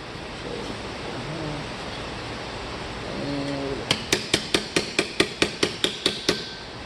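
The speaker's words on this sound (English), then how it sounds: "we've got our basic shape, a little lip, and we are going to start doming it" A hammer domes an aluminum armor plate for a costume piece, striking about a dozen sharp metallic blows in a quick, steady rhythm after a few seconds of quiet background hiss.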